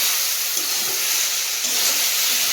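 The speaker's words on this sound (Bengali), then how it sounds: "নাড়িয়ে চাড়িয়ে জল দিয়ে দেবো" Water poured into a hot pan of fish curry sets off a loud, continuous steamy hiss, close up and unbroken for a couple of seconds.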